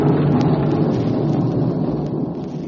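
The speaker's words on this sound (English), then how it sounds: "Does sound like thunder," Thunder rolls in a deep, loud continuous rumble with rain hissing alongside, gradually easing over a few seconds with no voices.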